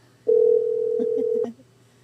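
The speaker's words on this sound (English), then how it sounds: "I'm going to call her right now." A phone call is placed: a single steady electronic tone sounds for about a second, loud and close, broken near its end by a few short dial-like blips, with a faint low hum behind it.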